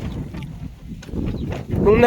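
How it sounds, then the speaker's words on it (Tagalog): Strong wind buffets the microphone in rough gusts on a high view deck, rising louder toward the end, with some faint voices underneath. "Magigiba na yung sa sobrang lakas ng hangin."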